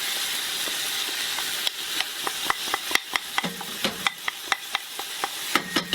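Peppers and oregano fry in a pan as cream coconut is added, a soft steady sizzle at first, then a run of rhythmic spoon clicks and taps stirring close by, with no talking.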